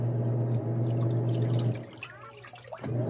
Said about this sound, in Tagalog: So sa ating reverse, tingnan nyo yung ikot sa tubig.